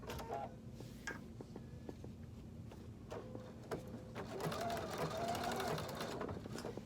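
A sewing machine stitches cork fabric for a colour-blocked handbag in bursts of rapid mechanical clatter, growing busier and louder toward the end.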